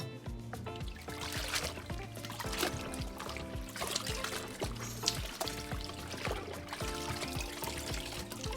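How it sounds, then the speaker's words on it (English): Ginger loaf cake batter with chopped crystallized ginger pours into a parchment-lined 2-pound loaf pan in a steady, soft flow over background music throughout. "Pour the mixture into the prepared loaf pan"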